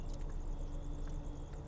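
A car engine turns over and settles into a steady low rumble, close and continuous, during a hurried getaway in a South Indian action film scene.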